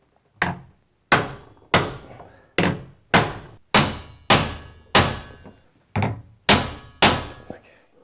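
A hammer striking a wood block to close a mitered joint on a custom wood countertop, eleven sharp, solid thunks at a steady pace of about one per second, close and loud with a short decay after each blow.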